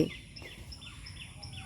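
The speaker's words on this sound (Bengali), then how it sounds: "পাখিগুলো ডাকছে" Birds call in the village countryside, faint repeating chirps at a steady pace over soft outdoor background noise, somewhat distant.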